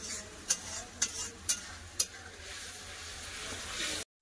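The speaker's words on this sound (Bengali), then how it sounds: "ভালো করে মশলাটা একটু কষে নেবো" Ground spice paste stir-fried with onions for a cauliflower, potato and egg curry: a low frying sizzle with four sharp, evenly spaced spatula knocks against the pan near the start, then continuous sizzling until an abrupt stop.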